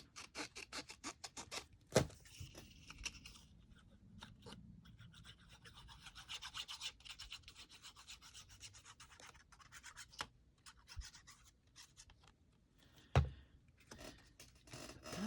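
Paper being trimmed for a junk journal, heard as quiet, close rasping and scratching strokes in irregular bursts, with a few louder taps and knocks between them, and no talking.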